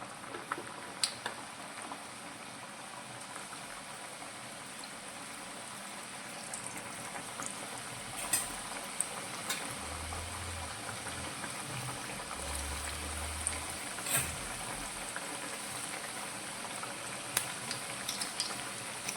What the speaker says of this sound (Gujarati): હવે વડાને આપણે થોડીવાર માટે આ રીતે તળાવ દઈશું